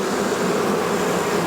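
Honey bees on a brood frame give off a loud, continuous buzzing drone that holds even and unbroken throughout, with no voices over it.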